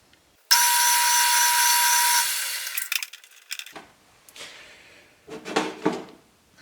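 Centre drill biting into a hard spot in a workpiece for a homemade radial channel sprayer: a loud, steady grinding screech that holds for about two seconds, then breaks into scattered scraping bursts and a final rough grinding flurry.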